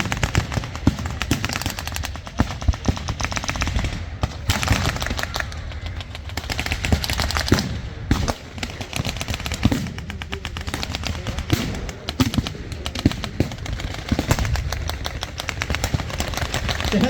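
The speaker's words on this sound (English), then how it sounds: "Oh, now the anti-tank rounds are going in." Gunfire and anti-tank rounds at a WW2 battle reenactment at Midway Village, with rapid machine-gun bursts and sharp rifle shots rattling continuously alongside heavier booming impacts and an engine rumble in the background.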